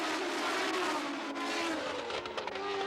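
Formula One race cars roar off the start of the 1978 German Grand Prix at Hockenheim, a loud dense engine howl with rising revs and a hint of tire squeal, no voices.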